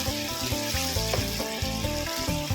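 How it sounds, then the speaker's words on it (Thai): Pork belly with spicy red curry paste simmers in a pan, giving a close, steady bubbling and sizzling that carries on without a break. "อันนี้จะเคี่ยวทิ้งไว้สักประมาณ 15 นาทีนะคะพี่ๆให้หมูนุ่มเนาะ"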